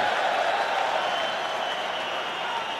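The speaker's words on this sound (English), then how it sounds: "And listen to the crowd." A big rugby crowd at Leinster against Munster keeps up a loud, unbroken roar mixed with scattered clapping, the massed noise holding steady and easing only slightly toward the end.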